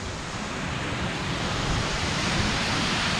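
Waves wash onto a beach at Varna, Bulgaria, a broad, steady roar of surf blended with wind rushing across the microphone, loud and continuous with no voices.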